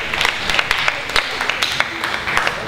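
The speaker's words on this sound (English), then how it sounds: "Please give your candidate a warm round of applause." A school student-government election debate crowd applauds a candidate, scattered claps rising and falling over a murmur of voices in a large room.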